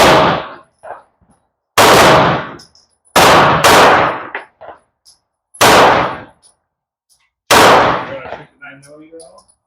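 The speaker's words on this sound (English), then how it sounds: "Adrian shooting my PDP, regular PDP" Walther PDP pistol fired at a target outdoors: five loud, sharp shots spaced about every second and a half, each with a ringing decay, and faint voices murmuring between them.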